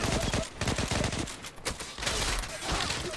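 Rapid bursts of pistol gunfire in the online shooter Zula, loud and close, fired in quick strings with brief gaps under the game's background noise.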